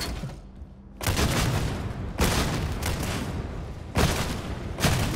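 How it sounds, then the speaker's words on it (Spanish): Bolter fire in Warhammer 40,000 Darktide: four heavy, booming explosive shots roughly a second apart, each followed by a dense rumbling tail that fills the gaps, loud and close with no voices. "Así golpea un Bolter. Vean esto, vean esta increíble epicidad de cómo ataca este arma."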